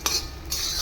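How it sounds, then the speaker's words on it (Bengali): A metal spoon scrapes and clinks against a very hot kadai while spices are stirred, two quick close scrapes within a moment and no speech. "আর আমি সব ঢেলে দেবো এর মধ্যে। দিয়ে এটাকে নাড়তে থাকবো।"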